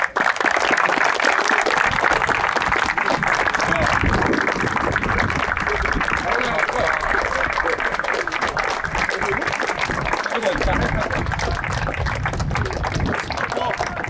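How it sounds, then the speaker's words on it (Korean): Spectators at a youth U18 football match clap in a dense, continuous round of applause that stays loud and even from start to finish, with scattered voices mixed in. "박수 쳐주자."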